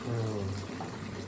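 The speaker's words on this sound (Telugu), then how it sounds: "ఉడికిన బియ్యాన్ని వడబోసుకోవాలి. టోటల్గా దాంట్లో ఉండే నీళ్ళని వడబోసుకోవాలి." Water draining off cooked basmati rice through a strainer for mutton biryani, a short steady pouring and trickling sound, close and moderately loud.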